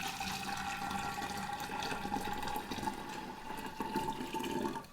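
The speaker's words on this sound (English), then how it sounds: "we're going to pour it over the sugar." Freshly brewed tea poured steadily over white sugar for kombucha, a continuous close liquid pour and splash lasting several seconds with no talking.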